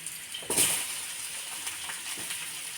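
Onions sizzle steadily in hot oil in a pan while sambar is cooked for about fifty people, close up with a brief sharper crackle as they go in and a continuous hiss after.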